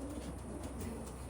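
Pedigree pigeons coo faintly in a loft, with the soft calls half-buried in steady background noise.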